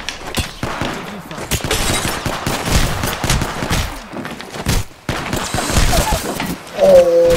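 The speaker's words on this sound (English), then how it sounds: "I just beat that dude with a shotgun." Rapid gunfire and impacts from a shotgun fight in the video game Apex Legends, dense loud bursts and cracks packed together, with a voice talking over the chaos.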